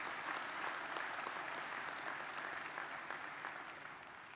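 Steady audience applause at a community service event, a broad, even wash of many hands clapping at moderate distance, fading slightly toward the end, with no speech.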